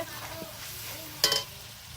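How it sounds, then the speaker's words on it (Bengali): Chicken meat for biryani stirs and fries in oil in a pan, with a soft steady sizzle and a brief louder scrape or clink of the utensil, fairly quiet and close. "নেড়ে চেড়ে মাংসটা কষিয়ে নেব ভালোভাবে"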